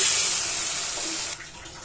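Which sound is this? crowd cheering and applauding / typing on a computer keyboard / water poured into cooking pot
water poured into cooking pot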